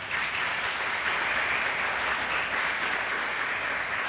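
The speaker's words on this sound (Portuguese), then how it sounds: "Você pode aplaudir o Senhor por isso?" A church congregation applauds steadily, a dense wash of clapping that holds at an even level throughout without any voices.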